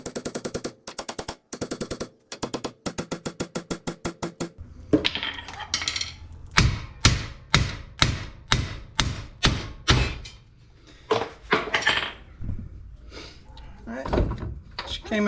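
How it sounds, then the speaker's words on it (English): A hammer taps on a Nissan Altima front wheel bearing hub, first as rapid rhythmic metallic strikes, then heavier spaced knocks, close and sharp, with someone talking in between. "let me get a hammer just in case. Got my hammer. I'm gonna tap on it and see if it comes out."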